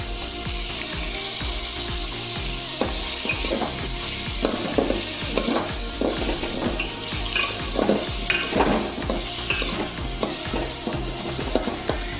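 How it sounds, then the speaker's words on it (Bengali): Onions fried in a pan for mutton curry while being stirred, continuous sizzling under repeated scraping strokes of the spoon. "এবার দেখো পেঁয়াজটা নেড়ে নিচ্ছি"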